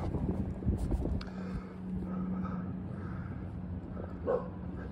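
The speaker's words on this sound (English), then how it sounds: "See? She's barking at the..." A small female guard dog barks near a bridge, a few short barks and yips with a whimper, fairly close over steady background noise.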